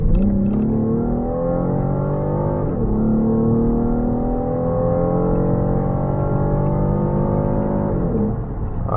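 Ford Explorer Ecoboost, with a reported loss of engine power, accelerating at full throttle, engine note climbing steadily through two gear shifts, loud, close and continuous from inside the vehicle.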